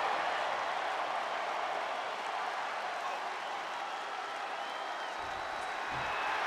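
A wrestling arena crowd in WWE 2K23 cheering and applauding, a steady broad roar of many voices and clapping that holds at an even level throughout, with a low thump near the end.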